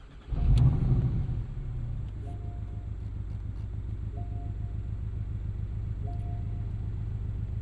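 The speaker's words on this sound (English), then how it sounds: "the 2-liter Boxster surges to life with a bit of a raunchy exhaust note" A 2024 Porsche 718 Boxster Style Edition with its 2-liter flat-four and active exhaust fires up with a sharp blip, then settles into a steady, raspy low idle that rumbles on close by, no voices.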